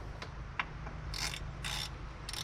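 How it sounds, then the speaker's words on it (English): A ratchet fitted with a 1/2-inch-drive T60 Torx bit on a 3/4-inch adapter works the belt tensioner on a BMW 3 Series E46, giving a few quiet metallic clicks and scraping bursts close by. "The only T60 I have is a 1/2 inch drive, so I'm using an adapter"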